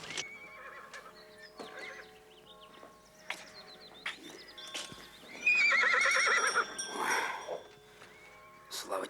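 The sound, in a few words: horse neighing, pulling a carriage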